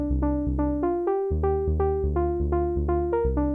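Digital synth with oscillator tune randomization switched off plays a repeating sequence of plucky notes over a steady bass, even and rhythmic, close and alone.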